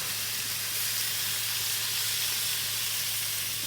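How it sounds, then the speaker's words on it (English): Meat sizzling in a pan while being basted for Caribbean surf and turf, a steady close hiss of frying fat that fills the clip with no pauses. "Oh, it's sizzling away."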